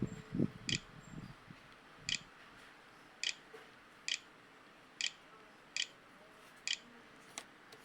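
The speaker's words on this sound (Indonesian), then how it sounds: "kita masukkan password menggunakan keyboard internal" Keys tapped on the internal keyboard of an Acer E5-473G i3 laptop while entering a password, heard as about nine sharp, evenly spaced clicks at close range after a few soft low thumps, with no talking.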